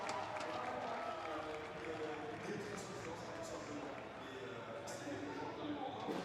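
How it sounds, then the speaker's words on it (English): Crowd at a Trackmania esports tournament cheers and applauds in a steady, moderately loud roar, with a commentator talking over it. "with the Vitality crowd cheering for him."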